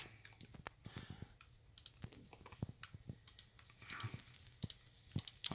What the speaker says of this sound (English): So as you can see, mouse and keyboard.